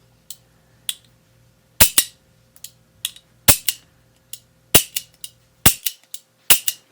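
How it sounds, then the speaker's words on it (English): Sharp metallic clicks and snaps from the action of a 2026 Colt Python revolver being cycled, arriving in paired bursts of cocking and dropping with brief pauses between, close and loud over a faint steady hum. "now we're going to cycle the gun again."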